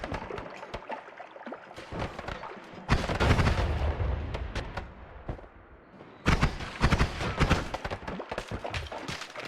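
Gunfire in the video game Noita, with repeated sharp shots and booming bursts in two loud clusters, close and dense, separated by a quieter stretch.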